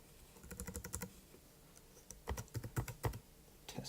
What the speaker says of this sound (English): I'll just type in test.